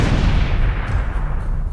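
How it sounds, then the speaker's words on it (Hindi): A bomb blast on Barakhamba Road near Connaught Place in Delhi, a heavy, loud explosion with a deep rumbling boom that carries on for a moment without fading. "कनॉट प्लेस के करीब बाराखंबा रोड पर भी अचानक एक धमाका हो गया।"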